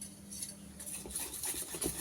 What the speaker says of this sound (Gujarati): હવે આપણે આમાં 1 ચમચી જેટલું તેલ એડ કરશું અને ખૂબ જ સરસ રીતે હલાવશું